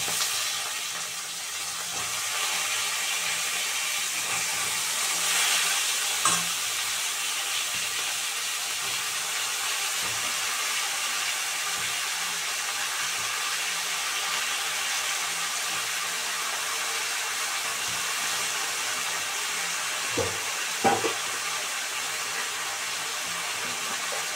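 Ridge gourd added to hot oil already sizzling with cumin and chilli, a steady bright hiss of frying that runs throughout, with a few soft clinks of utensils.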